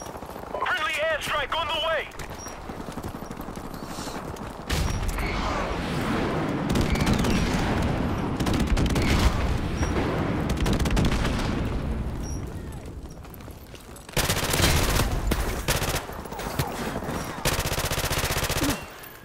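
Rapid automatic fire from a P90 submachine gun in Call of Duty 4 Remastered, with dense bursts and scattered gunshots and booms across a busy match, mostly continuous and loud, and someone talking over parts of it.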